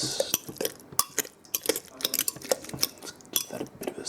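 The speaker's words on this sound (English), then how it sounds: "give that a bit of a stir." A utensil scrapes and clinks against the side of a pot of cream of pumpkin soup in a quick, irregular series of close, clear taps.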